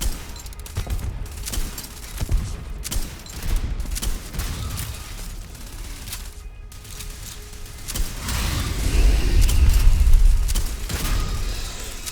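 Gunfire in the space game Starfield, a dense spread of shots and bursts with booming low thuds, building to a louder rumbling barrage near the end.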